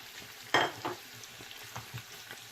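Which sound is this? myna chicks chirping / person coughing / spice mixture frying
spice mixture frying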